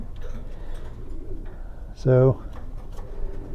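Racing pigeons in a loft give a single loud, clear coo with a rippling, bubbling tone, while someone talks quietly and softer bird sounds carry on in the background.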